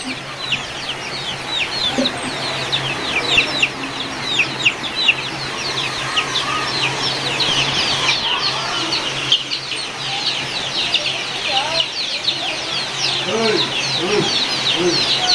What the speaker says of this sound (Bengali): দেশি মুরগি রয়েছে।